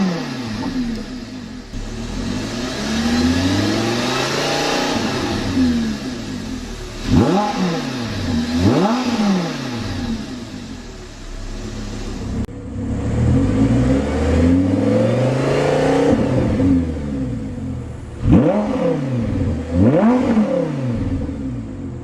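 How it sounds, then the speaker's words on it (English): The 5.2 FSI V10 of a 2012 Audi R8 GT Quattro revs hard and freely at standstill, climbing and dropping in a series of sharp, loud sweeps with a throaty exhaust note and no talking. "It's a wonderfully free revving engine."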